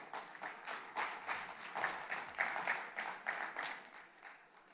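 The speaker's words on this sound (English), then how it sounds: "Please join me in a huge round of applause for our country's most powerful women" An audience at a Fortune Most Powerful Women event in India breaks into steady, dense applause, many hands clapping close and loud with a few sharper individual claps standing out, continuing for several seconds without talk.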